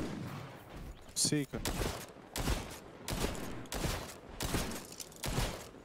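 Rapid bursts of gunfire crackle through a Hawked match, several sharp volleys spaced across the stretch, loud and close, with someone talking over and between the shots.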